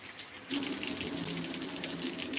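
Running water pours steadily over glass window panes being rinsed clean of dust outdoors at a village house, a close, continuous splashing gush that lasts throughout.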